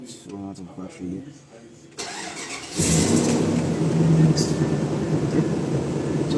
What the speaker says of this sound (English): I think we have to start this car so that we don't